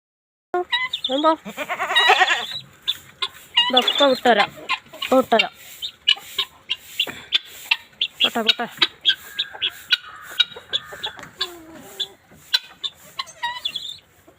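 Rooster and hens cluck and squawk in a morning farmyard din, loud, busy bursts of calls close by with a goat-like bleating edge, continuing without pause through the whole stretch.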